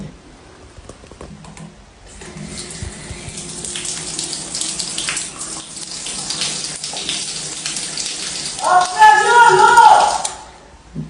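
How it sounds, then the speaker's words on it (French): Shower water runs in a home bathroom, a steady hiss starting after a couple of seconds and swelling louder near the end before cutting off. "ma mère ça fait 30 minutes, même peut-être 45 minutes elle est sous la douche"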